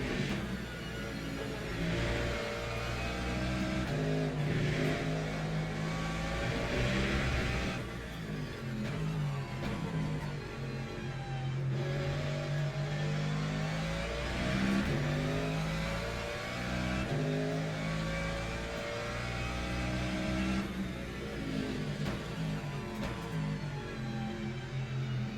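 Race car engines in the Le Mans Ultimate sim at Bahrain, a steady loud drone of mixed-class prototypes and GT cars with rising and falling revs as faster cars close in, continuous throughout.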